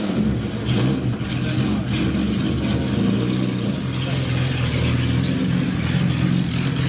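A 1962 car with a 3.7-litre, 314-horsepower straight-six engine rolls past in a concours parade, its steady engine drone loud and continuous throughout, with a voice talking over it.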